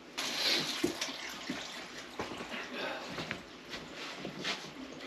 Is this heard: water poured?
yes